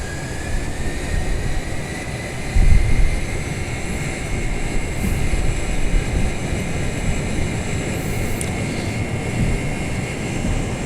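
Boeing 747-400 engines in Flight Simulator X spool up for takeoff as a steady, loud roar with a slowly rising whine, continuous and unbroken throughout.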